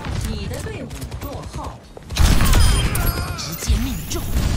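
Explosions and rapid gunfire in Overwatch 2, with a sudden loud crashing blast partway through followed by dense combat noise, under excited player chatter.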